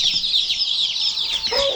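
Newly arrived chicks in a farm coop in cold weather peep in a dense, continuous chorus of high, overlapping chirps, close and fairly loud throughout.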